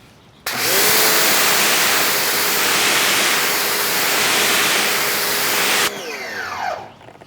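A steady, loud hiss of pressurized water spraying over a wrapped, ceramic-coated FRS during a wash, starting abruptly, holding for about five seconds, then cutting off into quieter dripping and handling noise.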